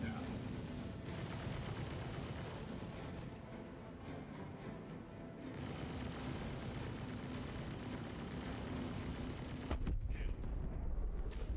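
Weapon fire striking a spaceship's shields in the space combat game Star Citizen, a dense, continuous barrage of loud impacts and rumbling blasts running throughout, with a heavier burst near the end.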